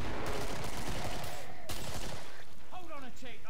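Gunfire and grenade blasts from the video game Killing Floor form a dense, loud barrage, and a voice can be heard under it toward the end.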